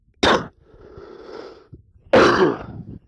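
A man coughs twice, close to the microphone: a sharp, harsh burst, a low throaty rasp, then a second heavy cough about two seconds later.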